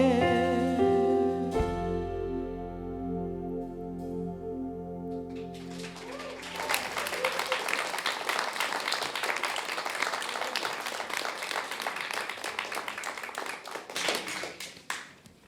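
Audience applause after a performance at a talk session: sustained clapping from a crowd that follows a held musical passage, building into a dense, even patter for several seconds before tailing off.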